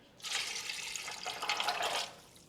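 Water for spiced cranberry juice pours into a pot in one steady, close splashing stream lasting about two seconds, with no voices.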